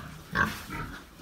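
A young piglet gives one short, sharp squeal while being weighed on a farm, followed by a softer grunt, close to the listener.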